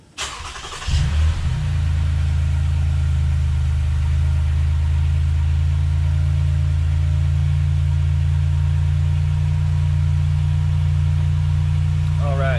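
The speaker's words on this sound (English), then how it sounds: "I'm gonna go start the car, and then we'll get a number to see what the actual cold start is" A Ford F150 with a 5.0 V8 and Corsa Xtreme exhaust cold-starts with a short crank, then settles into a loud, steady, deep idle rumble that runs unbroken to the end.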